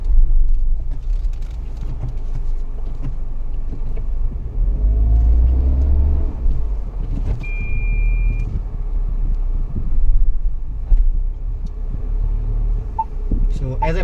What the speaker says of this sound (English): the car is losing traction